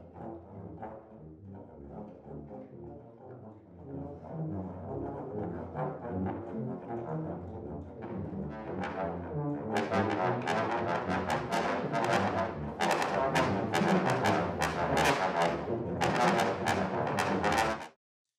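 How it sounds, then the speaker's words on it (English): Orchestral low brass section in a large room, captured by a Decca tree microphone array: sustained, deep chords that build from moderate to fuller and louder passages before cutting off abruptly. "you can still hear that seat positioning of the low brass section, as well as their depth in the room"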